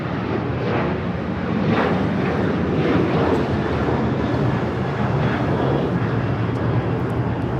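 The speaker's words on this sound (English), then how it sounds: "This is American Airlines 793 taking off to Chicago on the 737-800" Jet engine roar from an American Airlines Boeing 737-800 departing LAX for Chicago, a steady broadband rumble that swells slightly midway and holds at a loud, continuous level with some wind buffeting.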